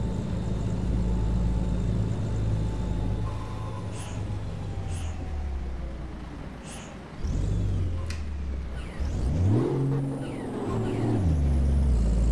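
A truck in Euro Truck Simulator 2 drives with a steady engine drone and road rumble, a few sharp hissing air-brake bursts early on, then the engine revs rising and falling as it works through gears.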